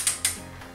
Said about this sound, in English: torque and tighten until you hear that click for 88 foot-pounds